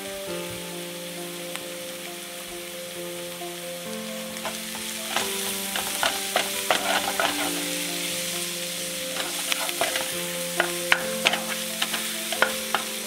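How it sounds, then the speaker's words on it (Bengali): Onions spiced with turmeric, cumin and chili powder fry and sizzle steadily in a pan, with frequent scraping stirs and soft music underneath. "পেঁয়াজটা ভাজা ভাজা হয়ে গেছে,"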